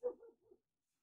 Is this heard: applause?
no